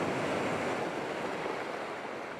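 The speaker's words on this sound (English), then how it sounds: "here we got a great wave coming up" Ocean waves crash and wash over the rocky shore at Acadia National Park, a steady, loud roar of surf with wind noise on the microphone and no talking.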